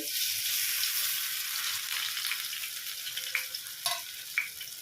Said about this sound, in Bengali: টপিট টপিট করে দু সাইড আমি ভেজে নিয়েছি লাল করে দেখেন